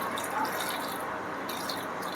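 Water is poured into a mixer jar during cooking, a steady close trickle and splash lasting a couple of seconds without pause or talk.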